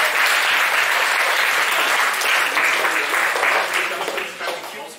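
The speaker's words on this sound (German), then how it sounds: "Applaus für Team 3 und 4." Enthusiastic applause for teams 3 and 4 at a Hessen Open event, dense clapping close and loud that gradually thins and fades toward the end.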